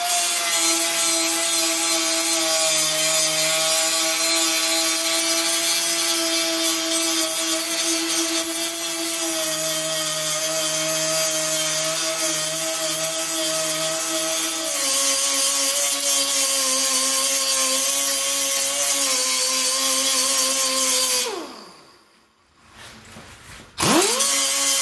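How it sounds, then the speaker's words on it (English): Angle grinder working steadily over welds on a rusty car cowl, a loud continuous whine with shifting pitch for about twenty seconds before spinning down, then briefly restarting. "I'm going to go ahead now and grind that all up"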